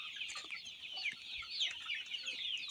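Free-range improved village chickens in a Zambian flock clucking continuously outdoors, a dense overlapping chorus of hens at moderate distance with no talking.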